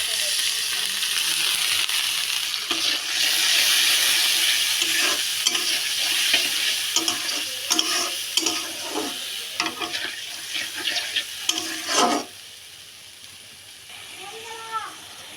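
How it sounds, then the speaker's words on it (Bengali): Onions and spices with turmeric and coriander powder fry in oil in a pan for a fish curry, a steady loud sizzle with repeated scraping stirring strokes, fading to quieter bubbling near the end. "এখন একটু পানি দিব, দিয়ে কষিয়ে নেব।"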